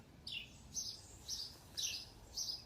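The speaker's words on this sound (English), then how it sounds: "enjoying this beautiful song, the serenade by the birds on this beautiful morning" Birds sing on a quiet morning, several short bright chirping phrases repeating about every half second against a soft, faint background hiss.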